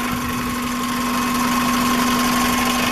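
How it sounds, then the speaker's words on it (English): A parked car's engine idles close by with a steady, even hum and a constant low drone and vibration. The sound stays at the same level for the whole stretch, with no voices. "That's the engine."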